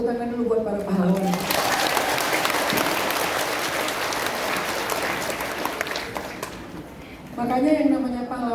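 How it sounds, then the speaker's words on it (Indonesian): An audience at a religious talk breaks into sustained, dense applause that swells and fades, framed by someone speaking just before and after it. "Tepuk tangan dulu buat para pahlawan."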